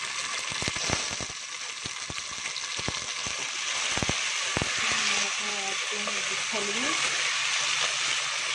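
Green beans and potatoes sizzle and fry steadily in a pan, with a continuous close crackle, a few sharp clicks of stirring near the start, and a faint voice now and then underneath.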